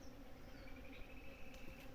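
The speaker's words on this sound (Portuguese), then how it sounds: "Diversas abelhas, né? A abelha Europa, as abelhas sem ferrão do cerrado" Bees hum faintly in the cerrado, a mix of European honeybees and native stingless bees such as mandaçaia, giving a steady low drone with a few higher insect whines passing by.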